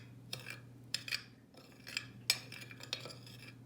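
Spices being mixed into sliced okra in a bowl: salt, red chili powder, coriander powder and cumin powder. A spoon gives several light, irregular clinks against the bowl, soft and close over a steady low hum, with no voices.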